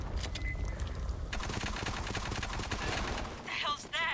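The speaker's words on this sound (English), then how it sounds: "Sentry gun on me." A sentry gun turret in a video game fires rapid, continuous automatic bursts throughout, loud and close, with game noise and some voice layered over it.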